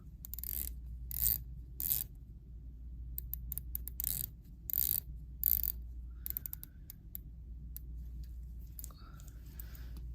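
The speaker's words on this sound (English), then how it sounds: "Dive bezel." Ratcheting clicks from the rotating dive bezel of a Breitling Superocean watch, heard close up as short bursts of rapid clicking separated by brief pauses, with no voice over them.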